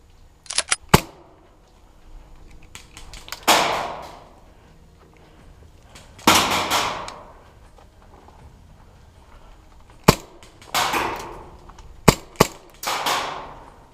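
Airsoft guns fire in sharp cracks and short bursts during an airsoft game in a favela-style field, some near and loud, others fainter, spread across quiet stretches with brief rustling in between.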